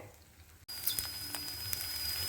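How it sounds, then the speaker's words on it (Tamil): Ingredients for coriander chutney sauté in a pan, a hissing sizzle that starts suddenly after a brief gap and continues steadily, close and moderately quiet, with faint clicks of stirring. "இது நல்லா பச்சை வாசனை போகிற வரைக்கும் நம்ம வதக்கணும்"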